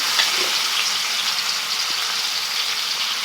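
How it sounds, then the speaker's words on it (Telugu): Marinated chicken pieces frying in oil, a loud, dense, steady sizzle close up that continues without pause, with no talking. "చికెన్ పీసులను అయితే ఇప్పుడు ఆయిల్లో వేసేసుకోవాలి."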